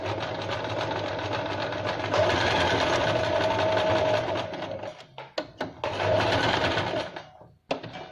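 A sewing machine stitches elastic feather-band onto heavy fabric in a steady, continuous whir, pausing briefly in the middle with a few short bursts before running again, close and loud.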